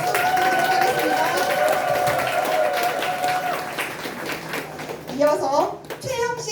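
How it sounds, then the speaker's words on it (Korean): Members at a Democratic Party core members' meeting applaud an introduced guest, a steady crowd clapping that tapers off as a voice begins speaking over the room. "박수 부탁드리도록 하겠습니다"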